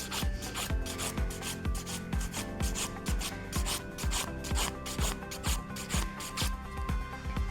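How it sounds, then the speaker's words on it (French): A nail file rasping over acrylic on natural nails, quick regular back-and-forth strokes, about three per second, close and crisp, with no talking. "vous venez bien incliner votre lime vers l'avant"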